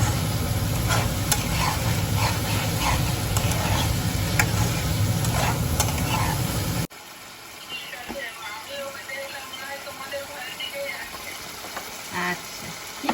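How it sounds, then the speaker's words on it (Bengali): Prawns frying in a pan: a loud, steady sizzle with stirring scrapes, which drops to a quieter crackle partway through. "কষানো হয়ে গেছে, চিংড়ি মাছগুলো দিয়ে দেবো। আবার একটু ভালো করে কষিয়ে নেব।"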